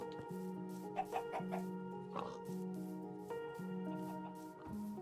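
Chickens clucking in the video game Minecraft, several short bursts of clucks scattered over a soft, steady tonal music bed, fairly quiet with no voices.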